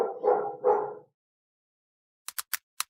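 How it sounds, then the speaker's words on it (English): A dog gives two quick barks close by, a short pause apart, then falls quiet; a few sharp clicks follow after a brief silence. "now the dog is noisy again."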